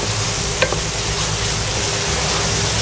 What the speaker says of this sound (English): I'll saute this really well. Fry this until the tomatoes are mushy